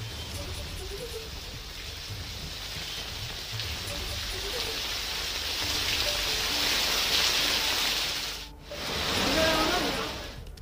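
Heavy, continuous rain pouring during monsoon flooding in Haldwani, Uttarakhand, a dense steady hiss that swells louder midway, drops out briefly near the end, then returns, with no talk.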